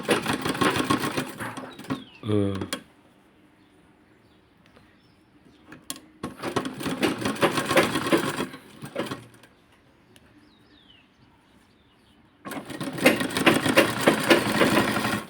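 A sewing machine stitching a blouse, loud rapid mechanical whirring in three bursts separated by quiet pauses, close by, with a brief mechanical clunk between runs.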